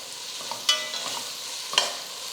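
Masala frying in a pan with mint leaves and chopped coriander being stirred in, a steady soft sizzle broken by two sharp scrapes of the spoon against the pan.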